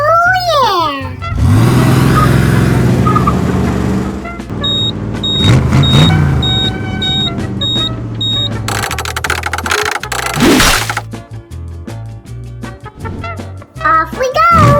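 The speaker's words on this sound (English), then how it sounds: "Tow truck, who called a tow truck?" In a kids' cartoon, a tow truck's engine revs and drives off amid busy animated sound effects, a stretch of repeated beeping tones and a lively soundtrack, with voices talking throughout.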